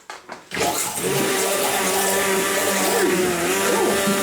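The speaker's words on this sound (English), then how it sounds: "Now I've put 300 mils of double cream in here, hand blender." A hand blender whirs into life after a brief pause and runs steadily at high speed whipping 300 ml of double cream, its motor pitch wavering slightly as it churns.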